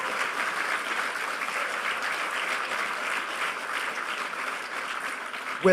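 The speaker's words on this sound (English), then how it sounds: "give a huge round of applause for the volunteers who have been working so hard to bring this to you" Hacker conference audience applauding the volunteers, a steady wash of many hands clapping throughout, sustained and even in a large hall with no speech over it.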